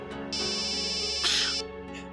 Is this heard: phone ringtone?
yes